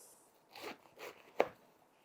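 A knife cutting a cabbage into wedges, three quiet crunching cuts close by, the last one sharpest, with no talk.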